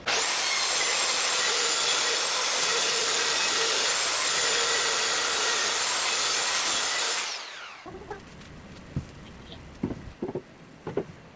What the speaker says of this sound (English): Now I can cut this piece in half and get my top and bottom panels.